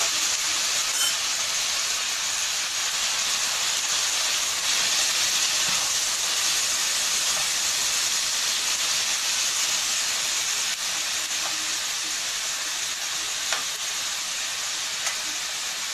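Finely chopped onions sizzle in hot oil in a pan, a continuous, even hiss that holds steady throughout with only small crackles and no talking.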